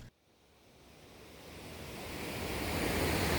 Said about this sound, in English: So this is the Deschutes River and actually Deschutes Canyon in Bend, Oregon.